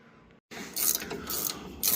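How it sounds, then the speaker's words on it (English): A ratcheting box end wrench tightens a tensioner on a combine, a burst of quick clicking ratchet strokes close up after a brief pause, repeated in short bursts. "Ratcheting box end wrench makes this a whole lot easier."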